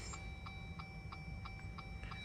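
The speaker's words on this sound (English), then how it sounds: "That noise is the dash cam every time you turn the car on." A steady series of faint, evenly spaced electronic beeps from a dash cam starting up in an EcoDiesel Jeep Gladiator repeats about every third of a second over a low background hum.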